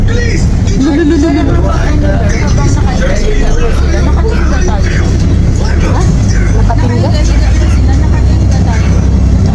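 Dense road traffic rumbles steadily on a Philippine road, with a trailer truck among the vehicles, heavy low engine drone and passing noise throughout, as people talk over it.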